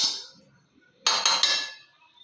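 Utensil clinking against a bowl while chitranna ingredients are mixed: one soft tap, a pause, then a quick cluster of three bright, close metallic clinks that ring briefly before fading.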